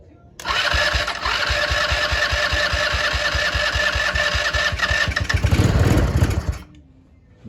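A Yerf Dog go-kart engine, pulled from an abandoned snowbank with its throttle plate loosened, sputters to life and runs in a rapid, steady buzzing rhythm for several seconds, revs briefly, then dies out abruptly.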